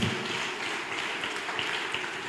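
A church congregation breaks into strong applause, a dense, steady wash of clapping that fills the whole moment with no individual voices standing out.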